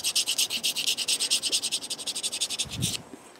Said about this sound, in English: let's scrape off a little bit of that coating